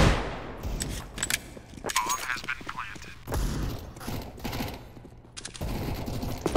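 Gunfire from a Counter-Strike esports tournament match, rapid bursts and single shots crackling through a busy mix, with a commentator talking over much of the action.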